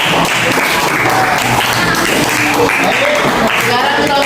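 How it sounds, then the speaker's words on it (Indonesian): Dense, steady applause from a classroom audience during a teacher-training lesson, filling the whole stretch at close range with voices mixed in. "Tepuk tangan sekali."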